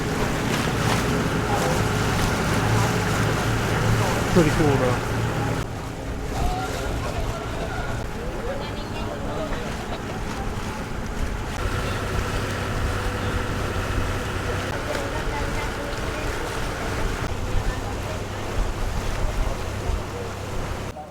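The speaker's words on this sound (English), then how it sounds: "these are some very small tender boats" Small tender boats on the water at the Cabo San Lucas cruise port, heard as a continuous engine drone with water wash and wind buffeting the microphone, a voice briefly speaking over it.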